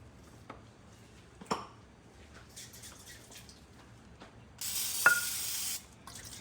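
A single short hiss of cooking spray onto a griddle, about a second long, rising out of a quiet kitchen background with a few light clicks and taps.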